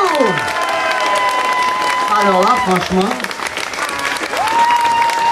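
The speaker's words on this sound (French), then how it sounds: "Applaudissez-vous" Studio audience applauding at a gay club show in Wormhout, steady clapping mixed with cheering that runs throughout while someone talks over it.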